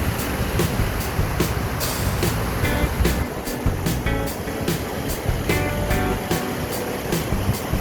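Strong water gushing out of a roadside sewer drainage outlet, a loud steady broadband rush with churning surges throughout, no talk over it.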